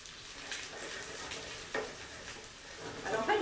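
Italian frittata of eggs sizzling in a frying pan, a steady soft frying hiss with faint stirring and light scraping noises, close up and fairly quiet, rising slightly toward the end, no talking.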